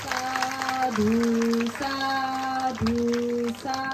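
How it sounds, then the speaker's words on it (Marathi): Audience applause at a Marathi gathering on Buddhist and Ambedkarite work, a steady clapping wash heard beneath a sustained, tonal voice-like drone throughout. "सर्व काम करणाऱ्यांसाठी, धम्माचं कार्य करणाऱ्यांसाठी एकदा तुम्ही टाळ्या वाजवल्या पाहिजे"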